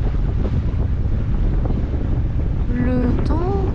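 Strong wind gusting over a sailboat out on the water, a loud continuous roar buffeting the microphone, with some squeaky creaks near the end.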